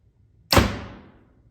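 A single shot from a PSE Mach 34 compound bow: a sharp, close thump with a quick whooshing decay after a moment of silence, quiet and brief.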